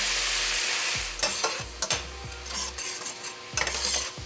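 Soy and Worcestershire sauce reducing in a pan, with a steady sizzle broken by scraping stirs and clinks of a utensil against the pan, close and without talk.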